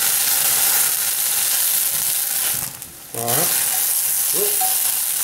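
A blackened New York strip steak sizzles loudly in a pan as excess alcohol cooks off. The steady hiss runs throughout, dips briefly during a quick scraping movement, and a voice speaks a single short word.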